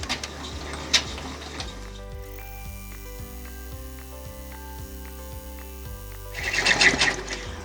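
An embroidery machine stitching a slot into a towel topper, a steady rapid mechanical stitching rhythm at close range between brief clicks and rustles.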